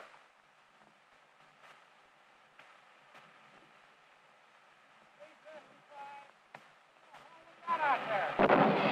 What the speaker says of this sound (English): The object of the test is to find out how much pressure it takes to blow out each tire, the acid test of tire strength.